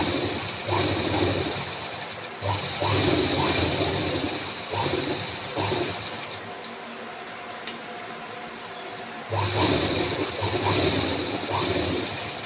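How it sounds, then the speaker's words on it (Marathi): A sewing machine stitches along the neck edge of a boat neck blouse, its motor running in steady bursts with short pauses between runs, close and fairly loud, with no talking. "सर्व भागांवर शिलाई करून घ्यायच्या आहेत पूर्ण भागांवर आपल्याला या ठिकाणी आता शिलाई करून घ्यायच्या आहेत"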